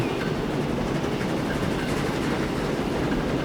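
Steady rumble and rattle of a train rolling along rails in Transport Fever 2, continuous and close, with a dense low-end roar and no talk.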